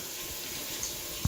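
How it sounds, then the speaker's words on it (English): Warm water is poured into a bowl while making slime, a soft, steady, faint trickle with a small splash at the end. "She's gonna pour everything out."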